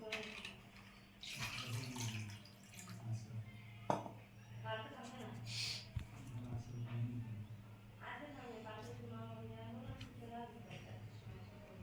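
Water running and splashing as an item is washed in a basin, with a steady close wash under the sound. People talk over the running water the whole time.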